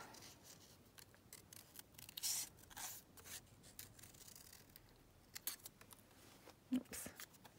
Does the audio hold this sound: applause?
no